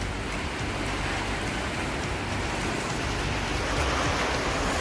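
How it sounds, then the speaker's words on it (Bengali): Rain in a storm falls in heavy gusts, a dense and even hiss that stays loud and constant throughout, with no voices. "বৃষ্টিটা এক ধমকে আসছে"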